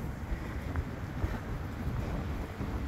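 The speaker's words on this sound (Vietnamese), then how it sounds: "gió mát rười rượi" Wind gusts across a microphone beside the widest stretch of a river in a park, a steady, rumbling low buffeting with no voices.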